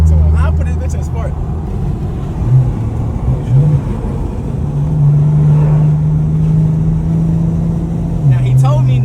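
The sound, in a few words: BMW 340i engine revving in sport mode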